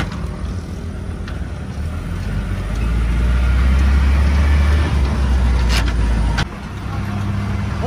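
A truck driving by on a nearby road, its low engine rumble swelling to a peak midway and then dropping off sharply, with faint clicks and knocks scattered over the steady drone.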